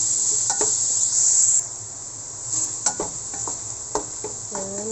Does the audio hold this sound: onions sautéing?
yes